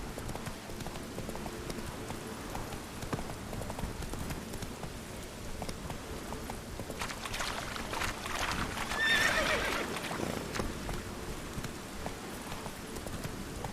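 A horse gallops in The Witcher 3 video game, with a steady, continuous run of hoofbeats and a whinny rising briefly near the end, mixed with ambient game noise.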